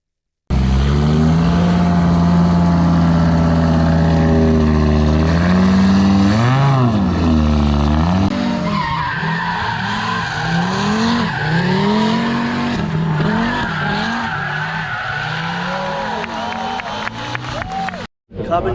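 Audi Quattro Group B rally car, a 2.1-litre five-cylinder with Pikes Peak setup, revs hard and shifts through rising and falling engine notes with tire squeal, loud and close, while a crowd murmurs at a rally festival.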